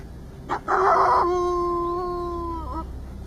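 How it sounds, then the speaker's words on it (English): A wolf howls in the wilderness: a loud, sustained tonal call that rises, holds steady for about two seconds, then bends and fades, preceded by a brief noisy onset. "their eerie howls echo through the wilderness"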